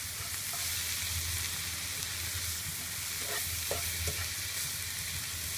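Papaya and shrimp stir-fried with pepper and sugar, a loud continuous sizzle close by with occasional stirring scrapes and knocks against the pan.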